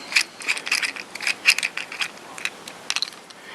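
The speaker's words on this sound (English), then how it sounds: "then what we're going to want to do is take out the body screws, or the scale screws" A small driver bit backs out the scale screws on a Kershaw Leek folding knife, giving close, light ratcheting clicks in quick uneven bursts with no talking.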